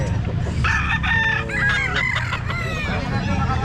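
Roosters at the Baliuag pet market crow in repeated, overlapping calls amid clucking from other fowl, set against a busy, noisy crowd background.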